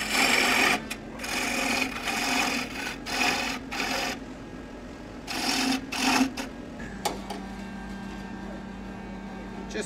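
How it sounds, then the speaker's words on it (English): Roughing gouge taking down the middle of a wooden folding shovel handle spinning on a lathe, a loud steady buzzing cut in bursts with short pauses, then a lower continuous motor hum as the tool stops. "we're going to get our roughing gouge now, and we're just going to take down all these middle parts"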